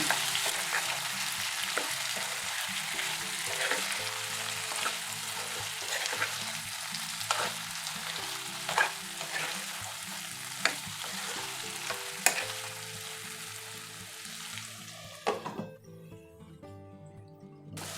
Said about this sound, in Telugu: దీన్ని మనం అప్పుడప్పుడు తిప్పుకుంటూ వేయించుకోవాలండి.